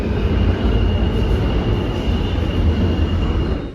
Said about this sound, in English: train is approaching though.